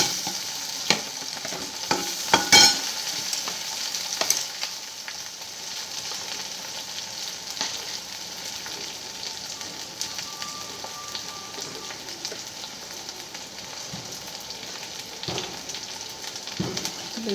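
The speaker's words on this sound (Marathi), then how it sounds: "कांदा फ्राय झाला आहे आता चला आपण बटाट टाकू त्याच्यात" Potatoes fry with onions in a pan, giving a continuous close sizzle broken by scraping stirs and a few sharp clatters. No one speaks.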